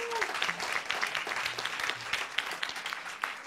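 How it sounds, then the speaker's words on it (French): An audience applauds journalist Lucie Chaumette with brief, dense clapping. A voice is faintly heard at the start, then the applause carries on steadily. "on peut l'applaudir"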